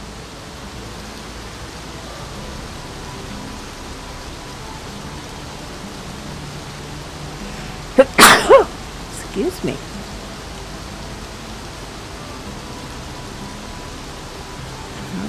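Steady, even hiss of rain falling in the video game Xing, a continuous wash with no clear drops, briefly interrupted around the middle by a short spoken phrase.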